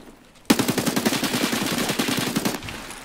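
Automatic gunfire in Escape From Tarkov: one rapid, evenly spaced burst of about two seconds breaks out sharply from near silence and then cuts off.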